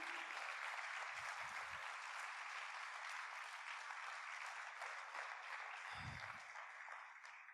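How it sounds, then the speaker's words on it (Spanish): Steady, dense applause from a church congregation during a Spanish-language sermon, fairly faint and continuous across the whole stretch, with a few low thumps. "Dale un aplauso a Dios si lo crees en esta hora"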